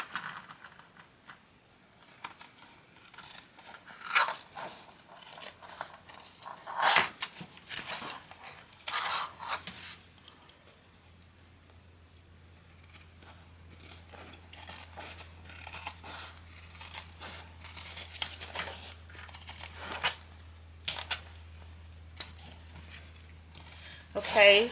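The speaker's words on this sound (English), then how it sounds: "So go around and cut down to a 1/4 inch." Scissors trimming the fabric seam allowance of a sewn bag, a series of quiet crisp snips in uneven bursts with short pauses, alongside a low hum and occasional talking.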